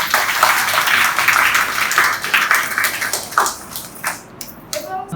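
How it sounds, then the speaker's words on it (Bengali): Audience applause at a cultural festival in Nawabganj, a dense wash of clapping that fades over several seconds, with a few scattered claps and voices near the end. "তার জন্য একটা করতালি।"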